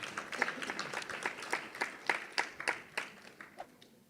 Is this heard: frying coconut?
no